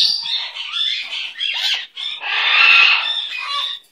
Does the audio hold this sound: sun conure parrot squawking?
yes